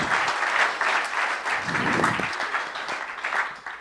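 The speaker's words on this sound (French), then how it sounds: "vous pouvez les applaudir bien fortement" Audience applause for panelists at a regional business round-table, a dense, even clatter of many hands at moderate level, holding steady throughout with no voices over it.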